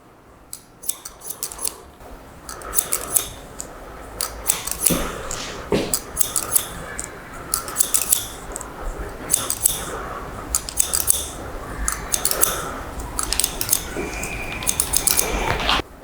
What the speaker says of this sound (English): Being completely parallel to the section, lift it up and cut.